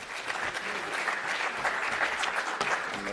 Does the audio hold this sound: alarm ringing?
no